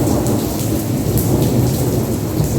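A heavy early-morning thunderstorm pours down outside a home, thick continuous rain roaring with rumbling thunder underneath, loud and unbroken with no talking.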